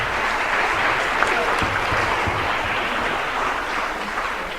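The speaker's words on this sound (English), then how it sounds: "Give him a round of applause, everybody." An audience claps steadily for several seconds, a dense, even wash of applause filling the room without any clear voices over it.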